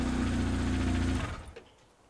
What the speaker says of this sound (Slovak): tak motor som nechal chvíľku bežať